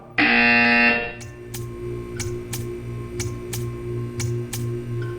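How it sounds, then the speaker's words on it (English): A buzzer in the Portal 2 video game blares loud and steady for about a second, then gives way to a quieter run of regular clicking ticks over a low hum. "You will hear a buzzer. When you hear the buzzer, stare at the art."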